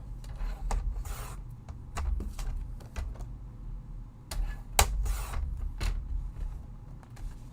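Paper being trimmed to size for a handmade card, giving soft repeated rasping and rubbing strokes with small clicks. The sounds are fairly close, in uneven bursts, and no one speaks.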